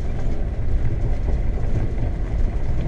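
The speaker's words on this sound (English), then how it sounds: "Looks like we're gonna be waiting for a train." A passing train, heard from inside an RV waiting near a river crossing, makes a steady, heavy rumble and clatter that holds at an even level throughout, with no talking.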